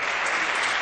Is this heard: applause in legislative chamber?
yes